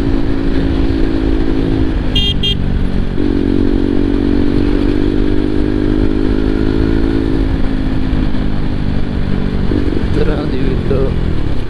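A KTM RC200 motorcycle ridden fast: a loud, sustained engine drone with steady pitch and a shift partway through, under rushing wind roar from up close.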